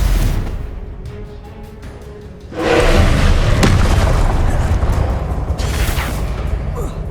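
A Stupefy spell blast in the Hogwarts Legacy video game lands as a sudden loud boom partway through, followed by a sustained rumbling crackle and another sharp burst near the end, over a low continuous background.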